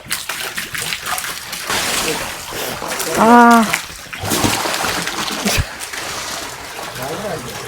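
Water pumped up from a well gushes and splashes steadily into a tank, a continuous close rushing sound with voices and a brief call over it.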